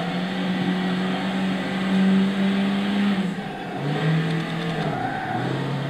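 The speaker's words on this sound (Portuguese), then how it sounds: "vou deixar um pouquinho o ronco pra vocês" Toyota Celica GT-R 2-litre 16V from 1986 revving in Gran Turismo 6, a steady loud engine drone that climbs in pitch, drops briefly, then rises again, with no talking over it.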